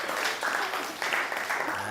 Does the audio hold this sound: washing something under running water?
no